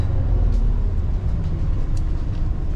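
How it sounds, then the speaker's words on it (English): An Optare Omni City bus engine heard from on board, a steady low rumble with drivetrain noise throughout, close and fairly loud, with faint rattles above it. "On board the Omni City now, as you can hear from the engine, sounding very nice."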